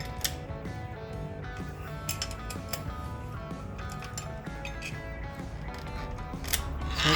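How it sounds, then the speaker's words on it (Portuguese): An 8 mm screw on a Suzuki Burgman scooter being loosened with an L wrench, heard as close, irregular metallic clicks and light scraping under a steady background hum, with no speech. "Só soltar esse parafuso, cabeça 8 mm, com uma chave L"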